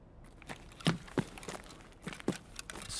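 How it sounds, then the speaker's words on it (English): Footsteps in Escape From Tarkov: a few quiet, uneven crunching steps spaced irregularly, faint and somewhat distant, with no talk. "His footsteps are sounding hella weird."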